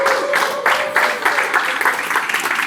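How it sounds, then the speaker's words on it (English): An audience claps steadily for several seconds to welcome a guest speaker onto the stage at a lunchtime event, the dense applause filling the room with no voices over it. "Let's give him a round of applause."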